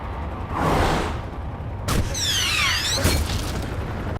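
Movie explosion as a character blows herself up: a muffled boom with whooshing debris and a shimmering, sweeping effect, set in a dense cinematic mix.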